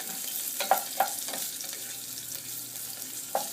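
Dried chilies and bay leaves fry in hot oil in a pan with a soft, steady sizzle, punctuated by a few light clicks and taps as a spoon stirs against the pan.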